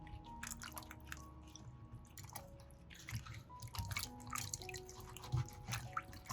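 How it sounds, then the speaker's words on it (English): Soaked okra washed and rubbed by hand in water, with soft wet squishing, drips and small splashes in an irregular rhythm, quiet and close, no talk. "Then take it out and rub each okra gently with the palm of your hand."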